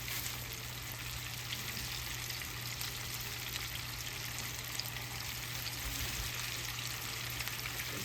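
Baby back ribs frying in hot oil: a steady, dense sizzle with fine crackling and popping, close and continuous throughout, with no talk over it.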